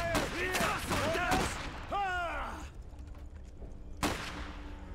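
Gunfire crackles in the Iron Harvest battle, with a few sharp shots under a voice at the start and a distinct burst near the end.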